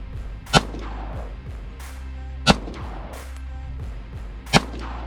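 A Glock pistol fitted with a Radian Ramjet compensator fires three sharp, loud shots about two seconds apart. Each crack is followed by a short echoing tail.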